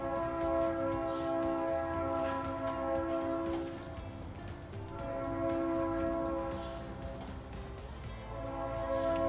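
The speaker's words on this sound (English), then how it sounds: "The train is being very noisy in the background today." A train rumbles past in the background, its long horn-like tones sounding in repeated sustained blasts that rise and fall, loud and continuous without talk.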